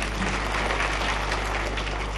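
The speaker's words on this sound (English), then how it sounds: "Please clap for your governor." Audience applause for the Uasin Gishu County governor at the Rivatex EA commissioning ceremony: a dense, steady wash of many hands clapping together, sustained evenly from start to finish.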